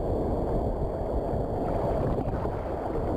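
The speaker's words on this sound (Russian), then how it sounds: "Волны охренеть сегодня." Strong storm sea waves crashing and churning nearby, a dense, continuous roar with wind buffeting the microphone, loud and unbroken with no voices.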